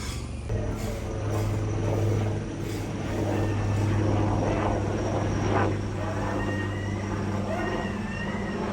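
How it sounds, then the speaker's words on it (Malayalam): A helicopter passes overhead above a home garden, its steady low rotor drone sustained and fairly loud throughout, with faint higher background tones. "ഹെലികോപ്റ്റർ വേനുണ്ട് കേട്ടോ."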